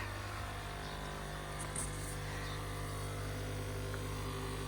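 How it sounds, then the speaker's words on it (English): A pond aerator air pump in an English tropical garden hums steadily and evenly, a low, constant drone that stays faint and unchanging throughout with no one talking. "the noise you can hear is the air pump, the aerator for the pond"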